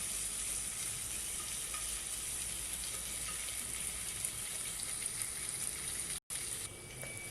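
Ginger garlic paste sizzles steadily in a hot pan, a constant close crackling hiss with a brief dropout near the end, no talking.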